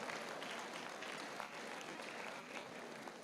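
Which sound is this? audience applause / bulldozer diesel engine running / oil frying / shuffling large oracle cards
audience applause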